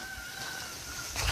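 A jungle fowl crows in a rural countryside setting, a faint, distant call with a drawn-out tone carrying over steady outdoor background noise, rising slightly louder near the end.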